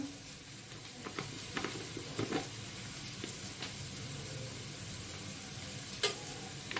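Soft, steady sizzling of spices frying in a pan, with occasional scraping clinks as they are stirred. Quiet and close.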